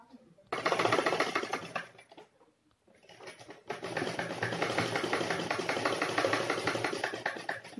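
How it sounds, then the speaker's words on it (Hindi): A sewing machine stitches a kurta placket, running in a close, steady rapid rattle that pauses briefly partway through and then resumes at a continuous pace. "अब यहाँ सिलाई लगा लेंगे हम।"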